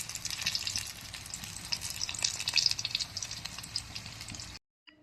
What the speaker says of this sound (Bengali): এখানে বন্ধুরা দেখুন কাঁকরোল ভাজা হচ্ছে